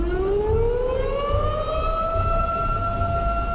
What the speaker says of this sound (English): You hear the tornado sirens going off in Lakota?